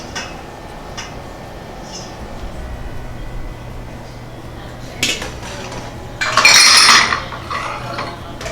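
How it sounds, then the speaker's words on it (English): A metal spoon clinks against a bowl while prickly pear syrup is being made, with a few light taps early on and then a brighter burst of clattering dish sounds near the end. "I'm also going to grab a spoon and this bowl."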